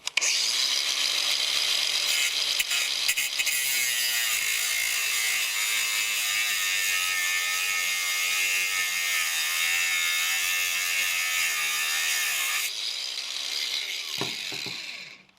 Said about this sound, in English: I just run my angle grinder at a 45-degree angle, something like that, just to get some heat and vibration in there